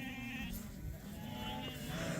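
Sheep in a flock gathered for wool shearing bleat repeatedly, wavering calls overlapping one another against a constant murmur of background noise.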